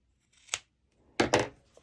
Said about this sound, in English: then I trim the excess fabric